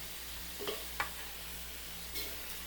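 Pork ribs for kaldereta being stirred and fried in a pan give a soft, steady sizzle, with a few sharp scrapes of the stirring utensil against the pan at close range and no talk.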